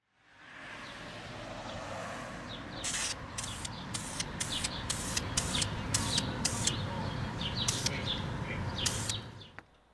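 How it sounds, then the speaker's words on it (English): Aerosol spray paint can priming miniatures outdoors, a series of about ten short hissing bursts in a steady rhythm, close and moderately loud over faint outdoor background with birds. "I also do tend to move the paint can a little bit closer to the parts as I'm almost done"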